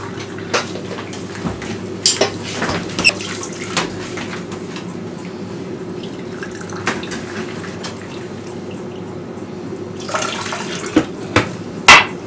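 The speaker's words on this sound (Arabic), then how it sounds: "وهنجيب مية فاترة، هنحط 2 كوباية." Two cups of lukewarm water poured steadily from a cup onto dry yeast in a home kitchen while making qatayef batter, a continuous close splashing stream with a few sharp clinks along the way.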